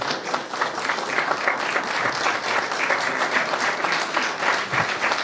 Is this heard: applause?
yes